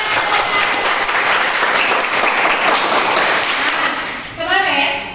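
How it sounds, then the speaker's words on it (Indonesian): Students clapping in a classroom, loud dense applause with rapid hand slaps throughout, ending with a voice speaking as the clapping fades. "Oke, tepuk tangan."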